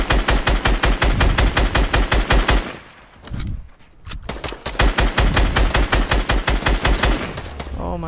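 Automatic gunfire from a squad-based shooter video game rattles in two long, loud, rapid-fire bursts separated by a brief lull with a short muffled thump.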